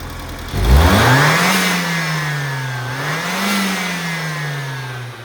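Turbocharged Volkswagen Passat engine after a sequential LPG conversion, revved up loudly from idle, rising to a sustained hum, dipping and climbing again in two smooth swells before settling into a steady close-up drone.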